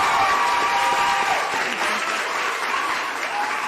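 Applause for the judges of a televised talent show fills the hall, a thick, even roar of many hands clapping close by, with a few voices faintly audible beneath it.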